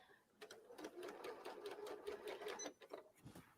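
A sewing machine stitches fabric wrapped around a rope, running in a steady rapid chatter for several seconds at a fairly soft level.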